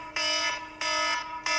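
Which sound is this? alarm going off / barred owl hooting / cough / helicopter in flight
alarm going off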